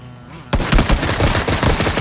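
Gunfire from the video game PUBG bursts in after a quiet moment, rapid loud automatic shots cracking in a dense, continuous stream.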